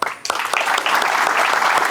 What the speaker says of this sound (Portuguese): Agora uma salva de palmas para vocês, porque vocês entenderam.